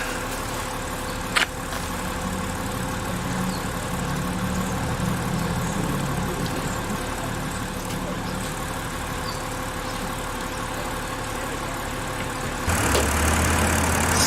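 A 2007 BMW 328xi E90 with a stalling fault idles steadily in a quiet, even low rumble. A brief click near the start, and the sound grows louder near the end.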